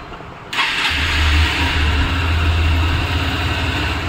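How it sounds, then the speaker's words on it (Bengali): A Honda Hornet 2.0 184cc motorcycle engine starts after a brief quiet moment, catching abruptly and settling into a loud, steady, close-up run with a low hum underneath. "এটা হচ্ছে ইঞ্জিন সাউন্ড, এটা কিন্তু এখনও রান করা হয়নি।"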